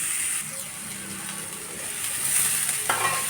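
Onions sizzling and frying in leftover oil from frying fish, a steady hissing crackle close up, with occasional stirring in the pan and no talking.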